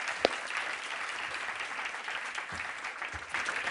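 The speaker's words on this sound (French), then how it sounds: "Vous pouvez l'applaudir chaleureusement." Warm applause from an audience at an event on the InSight Mars landing, a sustained, fairly soft wash of clapping with a couple of sharper claps standing out near the start.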